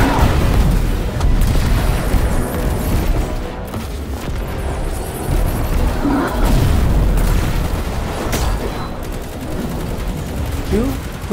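Rocket blasts in the shooter game Destiny 2, heavy booms layered over dense continuous gunfire and battle noise, loud throughout with several deep low thuds.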